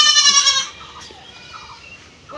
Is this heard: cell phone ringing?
no